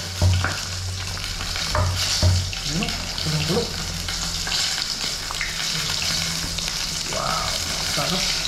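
Onion leaves frying in a pan give a steady sizzle with scraping stirs, close and moderately loud, with a low hum and a few soft clinks scattered throughout.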